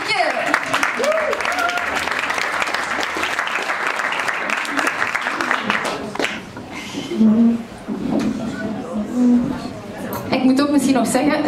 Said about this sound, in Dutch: Dames en heren, mag ik jullie applaus